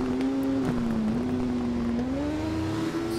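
Motorbike engines in the video game TT Isle of Man, a steady high-revving whine that rises and dips slightly with throttle, loud and continuous, with AI bikes following close behind.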